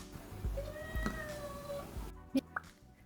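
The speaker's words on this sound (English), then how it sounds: "Yes, meow meow." A cat meows a few times up close, short rising-and-falling cries, followed by a couple of faint soft clicks.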